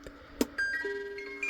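A Melody Mate chime box plays Greensleeves in its vintage chimes setting, a few soft ringing tones entering one after another and sustaining, faint and close, with a single knock just before the melody starts.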